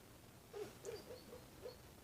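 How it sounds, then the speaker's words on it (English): A sleeping, dreaming dog whines in a short series of five soft, high, nasal whimpers, faint and close in a quiet room with no talking. "She's asleep and she's whining."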